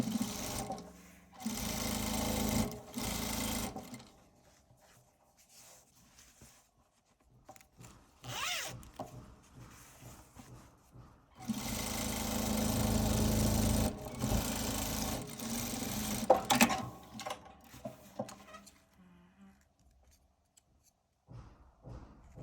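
A sewing machine stitches a seam on a fabric broom cover in several whirring bursts of varying length, separated by quiet pauses and small handling sounds, close up.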